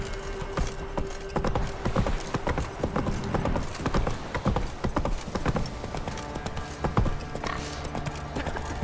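Hooves of the horse Roach in The Witcher 3 clip-clop in a rapid, steady galloping rhythm, close and continuous over ambient game sound.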